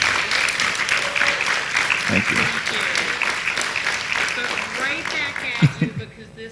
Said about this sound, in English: So please give her a round of applause for all of her hard work.